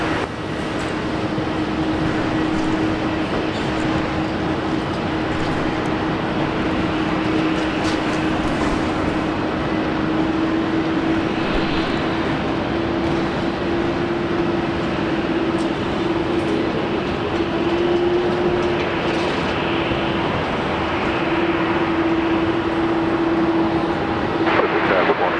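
An airliner lands at Brisbane International Airport with a loud, sustained roar and a steady droning hum that holds evenly for about twenty-five seconds.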